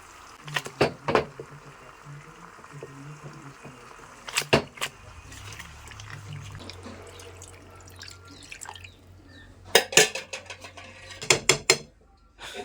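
Fish pieces, including a large fish head, and okra being dropped into a cooking pan with cooked onions, giving sporadic clatters and knocks of pieces and utensil against the pan amid quiet background noise.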